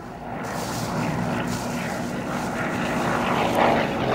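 Propeller engine of an aerobatic display aircraft at the Cosford Aerostars airshow drones steadily and continuously at moderate distance, its note holding and slightly swelling toward the end, with no talk.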